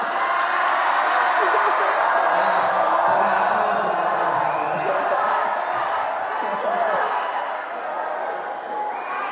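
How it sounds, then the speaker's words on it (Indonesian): Indoor school audience at an Isra Mi'raj religious event gives a sustained burst of applause mixed with cheers and some laughter, steady and loud throughout before easing slightly toward the end. "Kasih tepuk tangan. Tepuk tangan sekali lagi."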